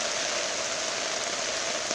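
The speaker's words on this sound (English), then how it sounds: "It's sort of quiet up here, a bit of rain." Steady rain patters and hisses evenly throughout in Williamsville during Hurricane Irene, a continuous wash of drops with no voices.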